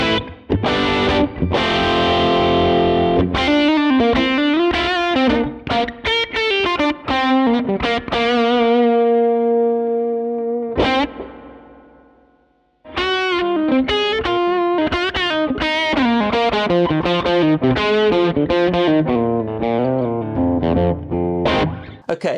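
Electric guitar played through a cheap Amazon amp modeler with distortion and spring reverb, loud chords and single-note phrases, one held chord ringing out and fading before playing picks up again.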